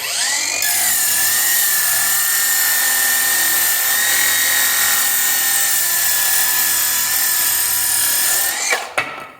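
A VEVOR 20 V cordless circular saw with a slightly wobbling blade cuts through 2x6 lumber, a loud continuous high motor whine held steady throughout, then winding down abruptly at the end.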